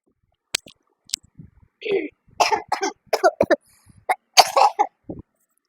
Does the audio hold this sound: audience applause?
no